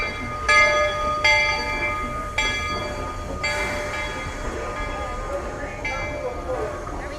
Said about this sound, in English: The Walt Disney World Railroad pulling into the Main Street station.